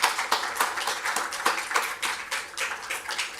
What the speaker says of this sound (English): give Denise a round of applause